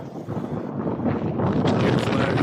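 Strong wind buffets the microphone in cold, blustery weather on a hike up to Force Crag Mine and its waterfalls, a steady roaring rush that swells toward the end.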